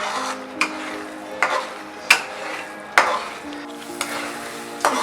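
A thick gravy for a veg Maratha curry sizzles steadily on high flame while a spoon scrapes and knocks against the pan every second or so, close and clear with no talk.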